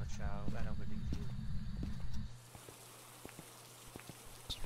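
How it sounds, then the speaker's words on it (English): Steady rain falls in the ghost-hunting game Phasmophobia on a freezing night, a soft continuous hiss with scattered sharp drops; a voice speaks over a low rumble at the start before the rain continues alone. "It's freezing temperatures and it's raining."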